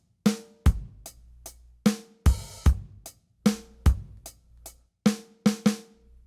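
Programmed drum rhythm built in Pro Tools, with kick and snare hits in a sparse, steady pattern of crisp, close, dry strikes and short decays; no talking.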